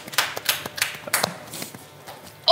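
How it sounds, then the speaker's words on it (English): A small group of people in a room gives a brief, scattered round of applause after a failed attempt at cutting something in half, with a few sharp claps landing unevenly before trailing off. "round of applause for Jonathan"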